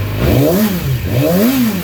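A 2019 Yamaha YZF-R6 sport motorcycle engine revs up twice in quick succession, pitch sweeping upward then dropping back, loud and close.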